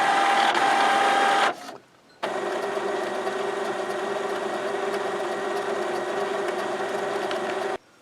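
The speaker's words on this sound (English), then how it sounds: "I've got a sheet in the printer." An Epson WF-2650 inkjet printer runs while printing a sheet: a steady mechanical hum with a brief pause near the start, then continuous whirring feed noise close by until it cuts off at the end, with no talking.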